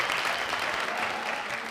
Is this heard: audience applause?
yes